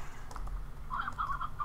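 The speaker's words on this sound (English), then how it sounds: "It's a mushroom chicken." Mushroom chicken in the video game Slime Rancher giving a short, faint cluck, a few quick clipped notes over low background hum.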